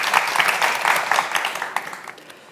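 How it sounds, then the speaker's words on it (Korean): An audience at a Korean television special claps for the soldiers. The applause starts full and loud, then thins out and fades toward the end, with no talking. "장병 여러분께 다시 한번 박수 부탁드릴게요"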